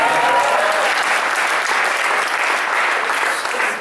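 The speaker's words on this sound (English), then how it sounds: "this deserves a cheer and another round of applause" Audience at a Startup Grind startup event in Durban gives sustained, dense applause with scattered cheering, a loud continuous roar of many hands filling the room without pause.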